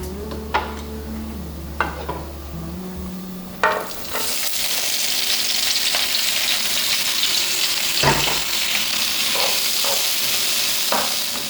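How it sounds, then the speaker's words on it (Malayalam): Four large chopped onions hitting hot oil for Kerala-style beef fry, a few clanks of the pan and then a loud, steady hiss of frying that carries on with occasional utensil taps. "എണ്ണ ചൂടായി വന്നു ഇനി നമുക്കത് അതിലേക്ക് സവാള ചേർക്കാം"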